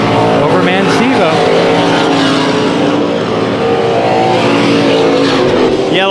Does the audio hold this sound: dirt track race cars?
yes